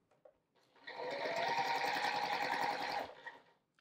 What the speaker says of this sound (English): Sew a quarter inch seam.